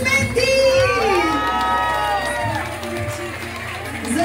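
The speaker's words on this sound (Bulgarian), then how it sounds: "Ама силни аплодисменти!" Wedding guests clap, shout and cheer loudly after a marriage proposal, a dense crowd roar with sung or drawn-out voices rising over it, close and sustained before easing slightly.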